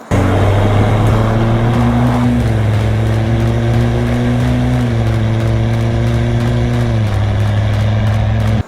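Engine of an SUV running through an aftermarket exhaust with a mid-pipe, middle resonator and carbon-fibre tip, giving a steady, loud, low idle drone with a slight rise in pitch partway through.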